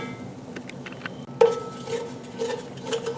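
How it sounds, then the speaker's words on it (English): A spoon scrapes and clinks against a pot while flour is stirred into a roux for gumbo, soft irregular scraping with one louder knock near the middle, close and fairly quiet. "I'm going to add 1 tablespoon of flour to this. See how it looks. Get that stirred in."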